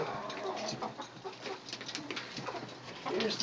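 Backyard chickens cluck and coo softly in a yard on a Saturday morning, with intermittent faint calls and a few louder bursts, no talking over them.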